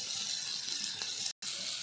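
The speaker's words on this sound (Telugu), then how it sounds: "ఈ చెమ్మతో 6 చెమ్ము నీళ్లు పోస్తున్నాం" Water poured into a cooking pot of eggs and turmeric, a steady close splashing pour that breaks off once for an instant before resuming.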